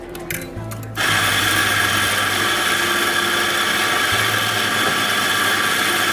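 An electric coffee grinder whirs loudly and steadily as it grinds coffee beans for espresso, starting after a brief rattle and running without pause, with no talking.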